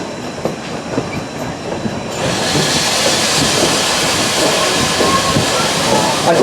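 A steam train in Lancaster County rumbles along the rails, jumping louder after a couple of seconds into a steady, close rush of rattling and hissing noise.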